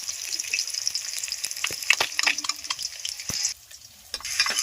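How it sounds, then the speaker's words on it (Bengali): Bhola fish pieces fry crisp in oil, a close, busy sizzle broken by sharp pops and crackles and a spatula scraping the pan, easing briefly before sizzling up again. "মাছগুলো কড়া করে ভেজে নেব ঝালের জন্য"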